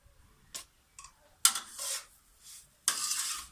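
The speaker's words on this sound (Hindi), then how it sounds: "चलिए अब हम सब चीज़ों को मिक्स कर लेते हैं।" A spoon stirs semolina halwa ingredients in a pan, making a few short scraping and clinking strokes, close and fairly quiet, with gaps of near silence between them.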